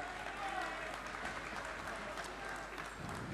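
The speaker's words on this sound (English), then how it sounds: "Round of applause," Audience applause ringing out after a sheep shearing heat at the Golden Shears World Championships, a steady, moderately loud wash of clapping with some voices mixed in, sustained for a few seconds.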